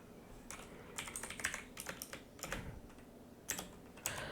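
Quiet, irregular tapping on a computer keyboard, with soft clustered key presses and a few louder strikes over a low background hiss, no talking.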